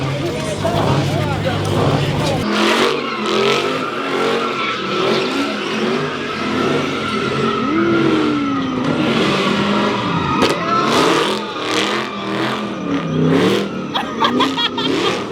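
Cars sliding and revving at an outdoor street drift event, engines surging and tires squealing in repeated bursts, mixed with loud crowd shouting and voices talking throughout.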